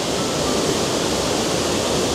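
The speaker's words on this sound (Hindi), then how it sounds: "ये 1 story and 2 story वाटरफॉल, वाह, अमेजिंग अमेजिंग। और पानी का बहाव बहुत तेज है," Rushing two-tier waterfall in Mawsynram, Meghalaya during heavy rain, a dense, loud and constant roar of fast-flowing water heard close up, steady and unbroken with no voices.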